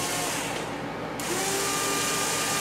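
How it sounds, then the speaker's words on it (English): A power drill with a 1/16 inch bit bores a hole through a QuadLugs frame part for a Caddy 340 build, its motor whining loud and steady throughout with no speech. "1/16 inch bit, and this hole here, we're going to drill it through."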